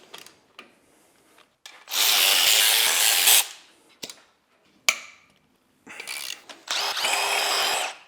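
Power tool buzzing in bursts as it loosens bed plate bolts on a BMW E92 M3 V8 engine with catastrophic damage, two long loud runs separated by shorter spurts and clinks of metal, close up with no talk.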